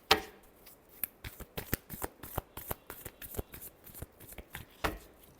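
Tarot cards being shuffled during a reading, a rapid run of crisp riffling snaps and flicks repeating steadily, close and fairly loud, with no voices.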